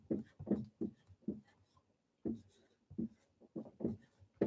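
Pen or marker strokes during a high-school English lesson, a series of close scratchy bursts in irregular rhythm with a short pause midway, heard alone.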